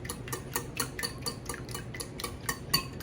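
Eggshells are broken up by hand to feed chickens, making a quick, regular series of small crunching clicks at close range with no talk.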